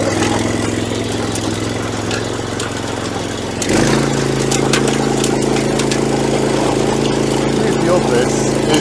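A tractor engine drives a large rotavator-style tiller, running steadily then rising in revs partway through, a loud continuous harmonic drone close by with faint background voices.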